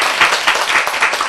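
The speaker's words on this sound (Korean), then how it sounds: "박수." An audience at a health lecture bursts into loud, dense applause. The clapping swells in quick waves and continues throughout.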